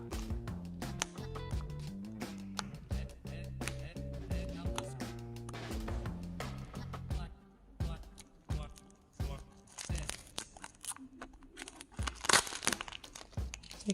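Protective vinyl film is peeled and crinkled off an object in a friction demonstration, with close, continuous crackling and tearing rustles and sharper crunchy bursts toward the end.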